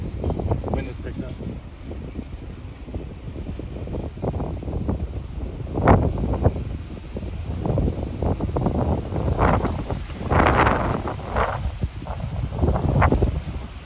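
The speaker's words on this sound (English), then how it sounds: "Wind is picked up." Strong gusting wind buffets the microphone during a supercell storm chase in Pennsylvania/New York, a steady loud roar with surges that build and swell, mixed with rumbling low noise and brief rustles.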